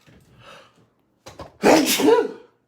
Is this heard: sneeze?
yes